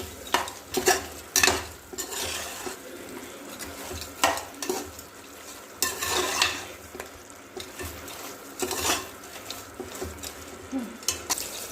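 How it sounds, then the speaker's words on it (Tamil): Turmeric powder being stirred into mutton bone soup in a pan, with repeated scraping strokes of a spoon against the pan and a light sizzle underneath, close and fairly loud, no talking. "மஞ்சத்தூள் சேர்த்துட்டு நல்லா கிண்டி விட்டுருங்க."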